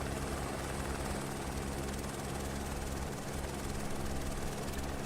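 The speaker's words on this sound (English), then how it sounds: "let's go back to the chopper" A helicopter in Microsoft Flight Simulator drones on steadily with an unbroken rotor and engine roar, loud and close, with no voices.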